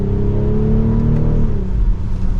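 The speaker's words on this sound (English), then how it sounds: "It has a good exhaust note to it." 2024 BMW X5 xDrive40i in sport mode accelerating, a loud steady exhaust drone with a rising then falling engine note, heard close from inside without talk.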